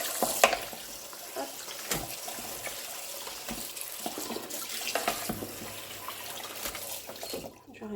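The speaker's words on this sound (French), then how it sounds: "Je vais arrêter l'eau pour le moment." Tap water running into a kitchen sink while courgettes are rinsed, a steady close splashing stream broken by clattering knocks of vegetables and a container, fading out at the end as the tap stops.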